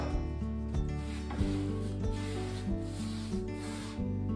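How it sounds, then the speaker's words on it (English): Hand sanding smooths the filled joins on restored car bodywork, giving a close, steady rasping rub in repeated strokes of about half a second each, with no voices. "I'm just smoothing out the joins so it won't be quite so noticeable when it's all finished and painted up"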